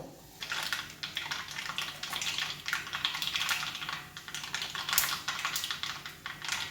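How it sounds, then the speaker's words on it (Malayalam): Mustard seeds crackle in hot oil for a garlic pickle, a rapid scatter of sharp little pops and clicks over a soft hiss, fairly faint and close, with no talking. "നന്നായിട്ട് ചൂടാവുമ്പോൾ കടുക് പൊട്ടിക്കാം കടുകിടാം"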